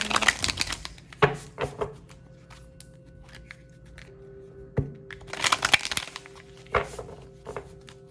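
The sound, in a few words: shuffling tarot cards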